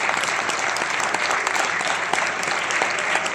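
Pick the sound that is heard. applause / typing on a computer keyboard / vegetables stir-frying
applause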